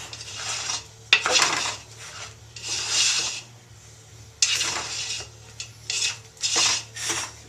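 Spoon scraping and stirring a sticky cereal treat mixture made with Trix in a pan, several close, distinct scraping strokes separated by short pauses.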